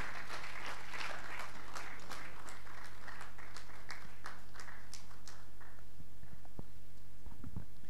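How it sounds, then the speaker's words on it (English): An audience applauds the chairman of Oil Data Energy Group at a formal event: dense, steady clapping for about five seconds that thins out and fades to quiet, with a few stray knocks afterwards. "Keep clapping for your chairman."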